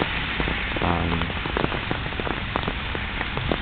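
Rain falls steadily on a surface, a dense close patter of drops hissing evenly throughout, alone without voices.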